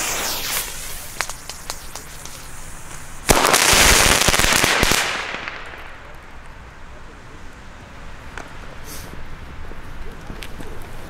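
New Year's Eve fireworks with salute rockets and firecracker strings: a loud rapid crackling burst of chained bangs lasting a couple of seconds, then scattered sharp pops and distant reports trailing off outdoors.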